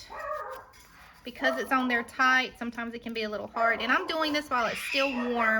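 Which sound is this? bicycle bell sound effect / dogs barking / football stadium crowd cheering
dogs barking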